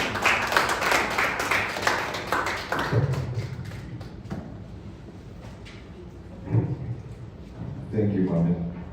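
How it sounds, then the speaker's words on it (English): Audience members at a talk on instability in the Sahel clap briefly to welcome a presenter, a short burst of applause that fades after a few seconds and gives way to a voice speaking. "A round of applause, please"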